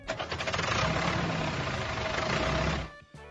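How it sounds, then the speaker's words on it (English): A tractor engine runs loudly and steadily close by, its continuous rumble holding for about three seconds before cutting off abruptly near the end. "Tractor."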